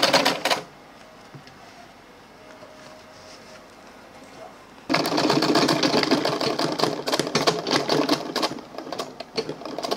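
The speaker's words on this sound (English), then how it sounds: "So I'm sewing my handle now." Sewing machine stitching an Ankara fabric bag handle, a steady rapid mechanical whir that starts briefly, pauses, then runs loud and continuous for several seconds close by.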